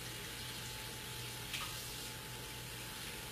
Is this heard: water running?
yes